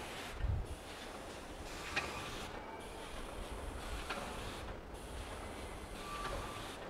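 A servo-controlled 10-lane stick packaging machine for pharmaceutical powder and granules runs with a steady mechanical whir and clatter, with brief regular dips and faint ticks repeating every couple of seconds.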